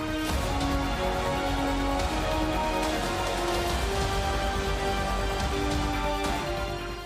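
Monsoon rain in Gujarat falls steadily and heavily, a dense continuous hiss of drops on surfaces that never lets up, with no voices.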